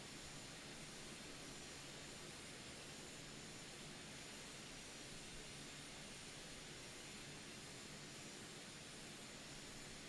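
Aircraft engine in Microsoft Flight Simulator 2020 at forward thrust, a steady, faint, even jet-like roar and hiss that holds without change and without talk.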